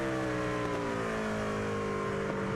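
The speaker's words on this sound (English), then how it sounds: "Hear how gentle they have to be on the throttle." Race truck engines in a sim racing game at Watkins Glen, a steady droning multi-harmonic engine note held on light, even throttle with slowly shifting pitch, loud and continuous.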